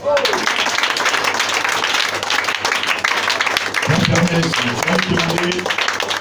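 A church congregation applauds and cheers continuously, a dense wash of clapping and voices close at hand, with a voice rising above it near the end.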